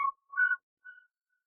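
A faint, soft wavetable synth melody with eight unison voices and a shaped envelope plays three short tones, the notes thin and sparse with silent gaps between them.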